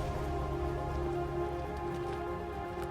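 Rain falls steadily in the Knuckles mountain range of Sri Lanka, a faint, even patter that continues for the whole stretch with no voices over it.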